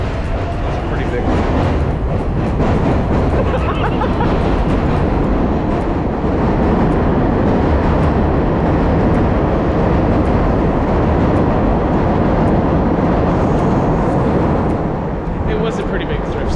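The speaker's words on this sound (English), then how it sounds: "That was the 7 train. That was loud." A loud, dense rumble of a New York subway 7 train roaring past close by in Queens, sustained for many seconds with heavy low-end clatter, voices faintly underneath.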